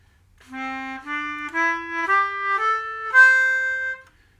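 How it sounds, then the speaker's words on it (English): An ascending pentatonic melody of six clear, sustained notes, each stepping higher, played alone at moderate volume with a bright tone. "So pentatonic scale sounds like this"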